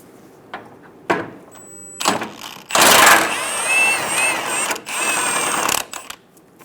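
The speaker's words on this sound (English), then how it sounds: "Remove the 15mm bolt on the bottom of the bumper." A power tool removes a 15mm bolt from the underside of the front bumper on a 2014-2018 Chevrolet Silverado 1500, giving several short whirring bursts and then a longer, loud buzzing run up close.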